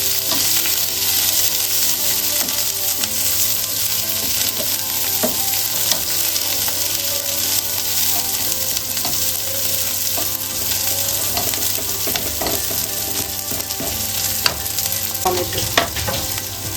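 Chopped onion frying in hot oil on a lowered gas flame, a steady close sizzle with scrapes and clinks of a spatula stirring the pan throughout.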